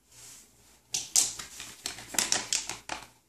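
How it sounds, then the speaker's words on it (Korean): Plastic ziplock bag being pressed shut around a portable heating pack: a quick series of sharp crackling clicks as the zipper track closes, close and distinct, after a soft rustle. "이건 이제 지퍼락으로 외부 전용 팩을 이렇게 잠그는 기능을 하게 되겠습니다"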